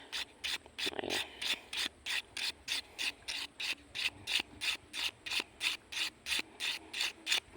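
A blunt hook on a soft frog fishing lure is rubbed on a sharpening surface in about twenty quick, evenly spaced scraping strokes, close and fairly quiet.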